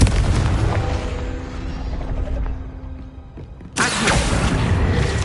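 In the video game Hogwarts Legacy, a Confringo explosive spell blasts with a heavy boom and rumbling crackle, then a second sharp burst follows a few seconds later.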